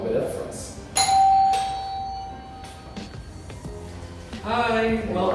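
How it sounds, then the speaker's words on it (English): Doorbell at a luxury penthouse suite door rings out with clear bright chimes that decay slowly, followed by voices greeting each other. "So let me ring the doorbell."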